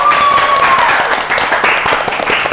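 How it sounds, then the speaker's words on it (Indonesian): Audience applause fills the room at a school talk-show event, dense steady clapping from a crowd, loud and close throughout with no voices over it. "Tepuk tangan dong."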